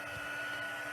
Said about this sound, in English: I'm going to turn on that heat tool and let it start preheating while I stamp.